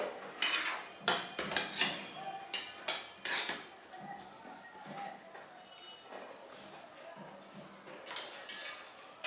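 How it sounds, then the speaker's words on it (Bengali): Metal tiffin box lid being pressed and shut tight during ilish fish cooking, a series of sharp close clinks and clanks that thin out into quieter handling knocks. "টিফিন বক্সের ঢাকনাটাকে আমি ভালো করে টাইট করে বন্ধ করে দিলাম"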